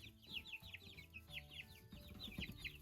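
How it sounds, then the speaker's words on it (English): Young hatched chicks on a farm peep in rapid, high-pitched bursts, several birds chirping over one another in repeated clusters, close and fairly loud with a low background hum. "here are the chicks that we hatched"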